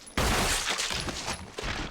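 Gunshots blast at zombies in Resident Evil, a sudden loud burst followed by a rapid crackling barrage that keeps sounding close for nearly two seconds.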